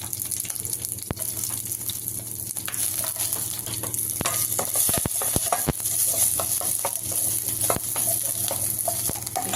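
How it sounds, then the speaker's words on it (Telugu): Green chilies fry in oil in a pan for a mint and tomato chutney, giving a loud, steady sizzle throughout with a few sharp pops and clinks of stirring. "కొద్దిగా ఆయిల్ వేసుకొని పచ్చిమిర్చి వేయించుకుందాము."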